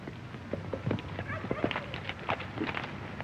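Horses' hooves on the ground in a 1935 Western, a few soft, uneven clops scattered across a few seconds, fairly quiet.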